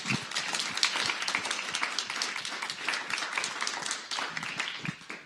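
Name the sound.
audience applause for panelists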